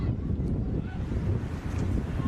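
Low, rumbling wind buffeting the microphone at an outdoor women's football match, NTFA versus NWFL, loud and gusty throughout with no clear voices.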